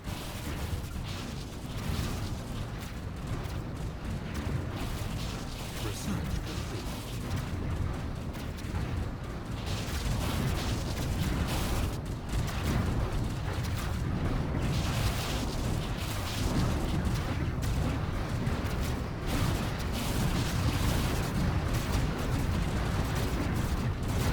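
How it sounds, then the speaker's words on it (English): Weapons fire from a space battle in the strategy game Stellaris rumbles on without a break, a dense, loud barrage of booming, crackling blasts with no voices over it. "Oh my god, they're just tearing my ships down. No, they're firing at the wrong thing."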